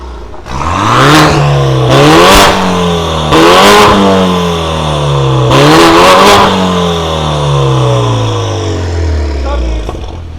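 A BMW F10 520i converted to 550 revs hard several times with loud, throaty exhaust bursts in loud exhaust mode, then settles into a steady idle rumble.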